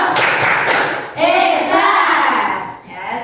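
A classroom of children does a rhythmic clapping chant, a burst of quick hand claps near and loud followed by chanted voices over scattered claps.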